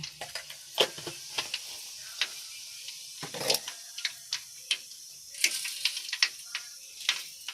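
Cumin seeds sizzle in hot oil in a pan while vegetable avalakki is being made, giving a faint, steady crackle punctuated by sharp little pops spread irregularly throughout, with no talking.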